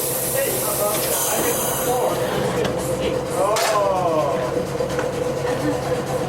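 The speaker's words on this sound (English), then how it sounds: "You're riding today on Milwaukee streetcar 846." Milwaukee streetcar 846 on the East Troy Electric Railroad rolls into a siding, with a steady electric hum and hiss, squealing wheel tones near the middle, and a voice talking briefly over the rumble.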